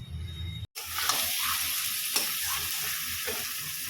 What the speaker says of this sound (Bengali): দিয়ে দেবো গ্রেট করা পনিরগুলো। মশলার সঙ্গে ভালো করে নাড়াচাড়া করে নিই।